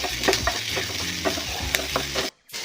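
Green chillies fry in a pan, a steady close sizzle broken by clinks and scrapes of a spoon stirring them back and forth, then a sudden brief drop to near silence just before the end.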